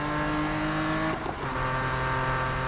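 A Nissan GT-R in the 2015 Need for Speed video game, its engine roaring loud and sustained with a brief dip around a gear change before the revs climb again.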